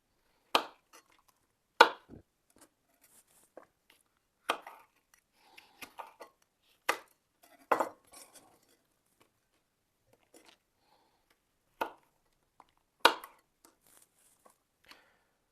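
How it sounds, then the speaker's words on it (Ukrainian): A knife cuts through a tough-skinned red chili pepper on a board in sharp, isolated chops and clicks spread irregularly over the span, close and crisp against near silence. "Доводиться докладати зусиль, аби оце розрізати"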